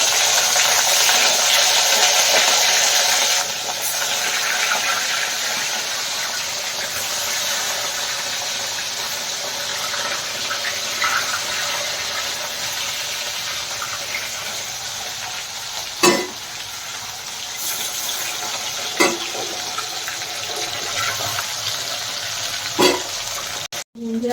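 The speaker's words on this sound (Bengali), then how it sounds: "এরকম লাল লাল করে মাছগুলো ভেজে নিতে হবে আর একটুখানি আছে এটাও আমি ভেজে নেবো" Rohu fish frying in hot oil in a pan gives a loud, close, continuous sizzle and crackle, broken by a few sharp clicks of a utensil near the end.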